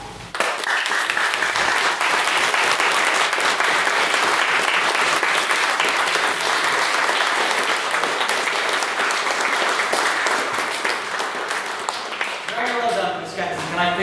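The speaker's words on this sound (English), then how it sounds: "Can I please get another round of applause for a fantastic men's speech?" A full round of loud, sustained applause from a debate audience after a speech on repealing the Eighth Amendment, dense clapping that holds steady before thinning near the end as a voice begins speaking.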